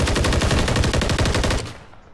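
Rapid automatic gunfire from an enemy in Call of Duty, a loud, steady burst of closely spaced shots lasting about a second and a half before cutting off into a fading tail.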